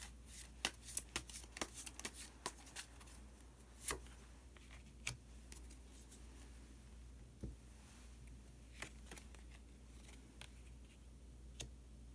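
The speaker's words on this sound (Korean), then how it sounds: "마법사 카드 한 장 더 뽑아보도록 하겠습니다." Tarot cards shuffled and drawn by hand, a series of soft riffling flutters and sharp slaps, denser at first then sparser, faint and close against a quiet low hum.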